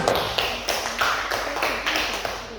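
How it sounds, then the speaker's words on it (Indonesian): Classroom clapping after a student group's presentation, a light, thin patter of a few hands in a steady run of claps, fairly faint and close with no talk over it. "Oke, tepuk tangan."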